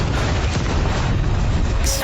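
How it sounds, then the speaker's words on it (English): Movie explosions from the action film Gadar 2 play loud and continuous, a dense low rumbling boom sustained for about two seconds with no pause. "Explosions galore."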